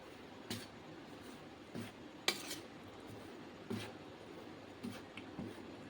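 Spoon clinking against a bowl while ground paste is mixed into chakli dough, a few faint, sparse taps and scrapes spread out over a quiet background.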